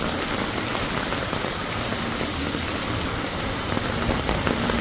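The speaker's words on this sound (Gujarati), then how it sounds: "જોરદાર વરસાદ પડી રહ્યો છે ભાઈ, ખતરનાક." Heavy monsoon rain pours down steadily over the streets of Surat, a dense, loud and unbroken roar of drops on hard surfaces with no let-up.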